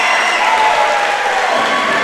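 A crowd at a high school wrestling meet applauds and cheers loudly and continuously, a dense wash of clapping with scattered shouts throughout.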